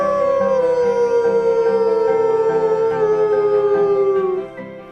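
People at a water's edge throw their heads back and howl like wolves, one long sustained wavering howl that slowly falls in pitch before fading, voices imitating wolves.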